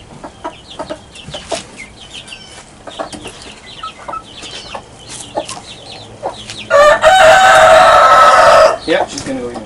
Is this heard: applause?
no